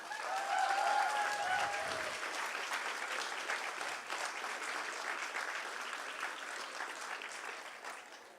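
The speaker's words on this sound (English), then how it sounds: "can I have a massive round of applause for Sheila?" A crowd at a remembrance gathering gives Sheila a long round of applause, a dense wash of clapping that swells at the start and tapers slowly. Faint voices and whistles rise briefly above it early on.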